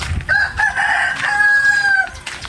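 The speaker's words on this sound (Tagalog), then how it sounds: "Manok." A rooster crows once in the rainy Philippine countryside, a loud, close, drawn-out call lasting about two seconds over light background noise.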